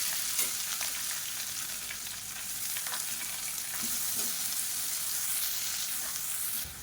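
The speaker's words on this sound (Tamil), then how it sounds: "பொடியாக நறுக்கின வெங்காயம் 1 கப் அளவுக்கு சேர்த்துக்கலாம்." Chopped onions with mustard seeds, chana dal and curry leaves fry in hot oil for vegetable rava kichadi, a loud, continuous crackling sizzle with scattered pops, close and uninterrupted.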